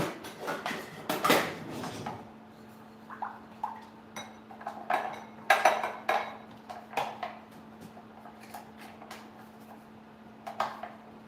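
A spoon mixes appetizer ingredients with chili powder in a bowl, giving intermittent clinks, taps and scrapes of varying loudness over a faint steady hum, with no one speaking.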